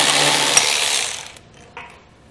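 A power tool with a socket spins out a 10 mm bolt under a 2022 Ford Escape, one loud close whir that winds down after about a second, followed by a brief metallic clack.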